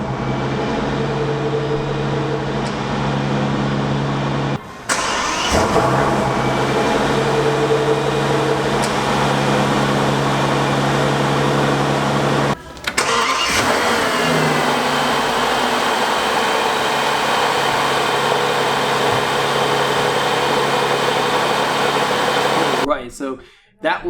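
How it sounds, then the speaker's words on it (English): A 2016 Bentley Flying Spur's 6-liter twin-turbo W12 engine idles with a steady deep hum, then revs sharply a couple of times and settles back, close and loud throughout. "that was a 6-liter twin-turbo W12 with 616 horsepower"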